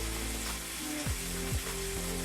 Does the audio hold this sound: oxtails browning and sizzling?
yes